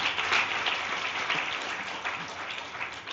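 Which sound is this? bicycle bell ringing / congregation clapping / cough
congregation clapping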